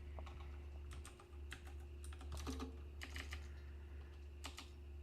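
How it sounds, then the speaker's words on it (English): Computer keyboard typing picked up faintly in the background during a home podcast recording, irregular bursts of quick clicks over a steady low hum, with no talking. "I like that clicking noise in the background."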